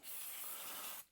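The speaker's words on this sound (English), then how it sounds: "I'm going to spray this thing down." A workshop degreaser sprays from an aerosol can in one close, loud hiss of about a second that stops abruptly.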